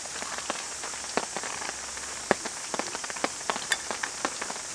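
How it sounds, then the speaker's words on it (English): Rain patters steadily on a tent while camping, a dense wash of fine drops with sharper taps and occasional heavier drips hitting the fabric close by, no voices. "Can you hear the rain?"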